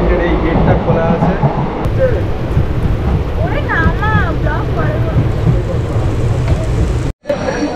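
Moving Gour Express train heard through an open compartment door, a loud, steady rushing rumble with metallic squeals partway through, cutting out abruptly near the end before resuming.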